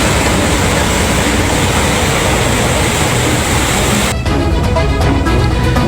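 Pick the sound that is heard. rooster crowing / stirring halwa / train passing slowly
train passing slowly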